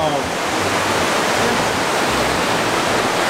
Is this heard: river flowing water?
yes